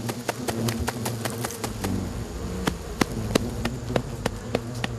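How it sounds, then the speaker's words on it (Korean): A mass of Asian giant hornets trapped in a net give off a dense, steady buzzing drone, with sharp ticking impacts scattered throughout as insects hit the mesh, close and loud. "순식간에 그물망을 가득 채운 장수말벌들."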